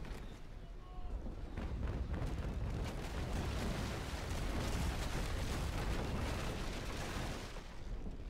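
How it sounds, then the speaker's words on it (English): A port-side cannon broadside booms from a sailing warship in Naval Action, a sustained rolling roar of heavy guns under faint talk. "get a full broadside off with our port guns"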